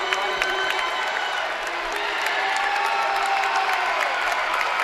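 A basketball gym crowd applauds and cheers steadily for a high school player breaking his school scoring record with 52 points, a sustained wash of clapping and voices heard from within the stands.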